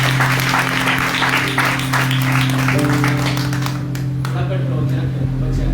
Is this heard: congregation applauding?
yes